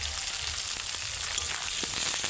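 Sliced potatoes and onions fry in hot oil in a pan, giving a steady, close, continuous crackling sizzle with faint clicks and no talking.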